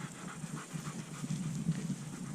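A German Shepherd panting steadily at close range, quick rhythmic breaths running continuously through the moment with no voices.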